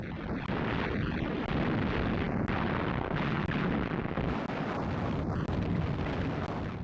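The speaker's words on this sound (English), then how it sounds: "the British opened up an artillery bombardment on Rommel's positions" Artillery bombardment at the Battle of El Alamein: a dense continuous rumble of distant guns with repeated sharp bursts spaced about a second apart, steady and noisy throughout with no voices.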